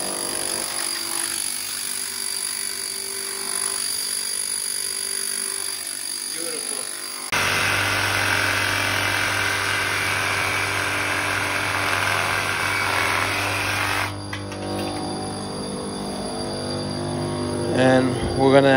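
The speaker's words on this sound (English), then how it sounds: "So right now, we put it in hammer mode." A hammer drill running in hammer mode while roughing in basement plumbing for a washing machine connection, a loud continuous buzzing rattle that shifts in pitch and intensity twice over a long steady run.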